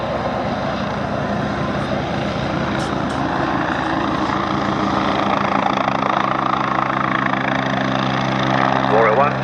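Westland Wasp helicopter flying a display at an air festival, a loud continuous rotor and turbine drone with steady blade chop, overlaid by a commentator talking over the public address.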